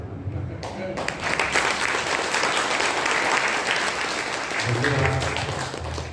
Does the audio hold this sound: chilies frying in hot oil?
no